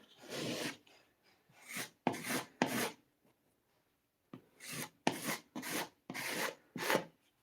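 Filler smeared over holes in a wall with a putty knife, a series of close scraping and rubbing strokes, several in quick bursts separated by short pauses, with no speech.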